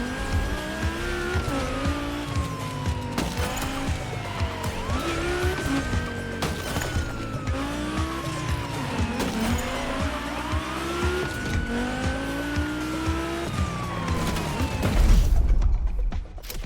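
Audi RS6 Avant police chase car racing in The Crew Motorfest video game, its engine revving continuously and rising and falling through gear changes, loud and close, with tire squeal and a heavier burst near the end.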